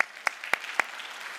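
A few sharp, separate claps ring out at a Sunday church worship service, spaced roughly a quarter second apart, faint against a quiet room.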